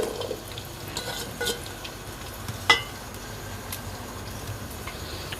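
Onion, garlic and ginger fry with whole spices in ghee in a pan, a soft, steady sizzle with occasional light clicks and one sharper utensil tap in the middle.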